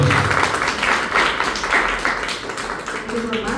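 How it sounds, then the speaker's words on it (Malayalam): An audience at a staff honouring ceremony for an educational department in Meerut claps in a dense, continuous burst that stays steady and close throughout. "എല്ലാവരും കൈയടിച്ച്."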